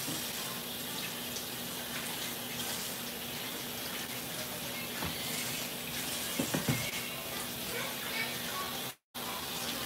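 Tap water runs steadily into a kitchen sink while potatoes are rinsed, a continuous close gushing with small clunks, cutting off briefly near the end.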